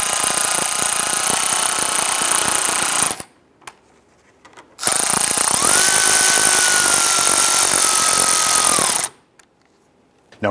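Power tool snugging bolts on a 2002-2008 Dodge Ram 1500 front bumper, a loud rattling whir in two long bursts separated by a short pause, with a brief restart at the very end.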